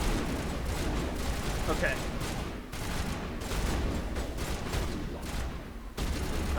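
Inferno Grenade blasts and gunfire in the Mass Effect video game, a dense, continuous barrage of loud bursts and crackling fire with a short spoken word over it.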